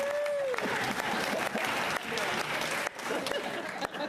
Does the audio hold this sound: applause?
yes